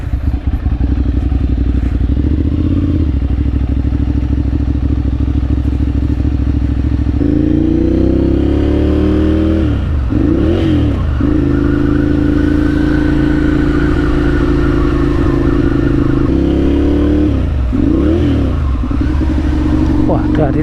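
A Ducati Monster 795 motorcycle engine runs loud and steady during a ride, its low drone rising and falling with revs and gear changes, while someone talks over it.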